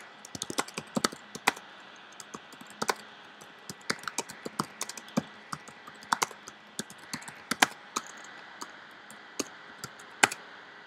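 Typing on a computer keyboard, a quiet, close series of irregular clicks and taps running steadily throughout with no talk.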